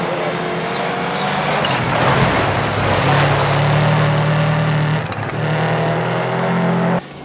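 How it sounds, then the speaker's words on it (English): A Subaru boxer engine in the racing game Assetto Corsa Rally drones in a deep, throaty burble, rising in pitch as revs climb, briefly dipping around a gear change, then cutting off abruptly near the end. "The sound's really nice and deep and throaty and very unmistakably Subaru"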